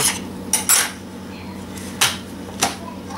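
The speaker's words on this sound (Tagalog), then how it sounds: "kuha lang tayo ng butter knife. Paikutan lang natin para ma-release natin." A butter knife run around the edge of a cake pan to release a chilled strawberry and cream cake: a few short metallic scrapes and clinks, close and fairly loud, with quiet pauses between them.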